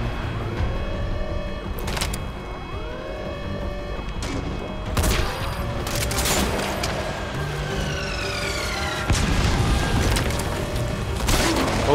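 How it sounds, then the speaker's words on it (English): Mortar fire in Metal Gear Solid V: The Phantom Pain during an online FOB infiltration, heavy booming thumps landing repeatedly every second or two over a constant rumbling game soundscape, with a few louder blasts standing out. "Got mortars coming from God knows where"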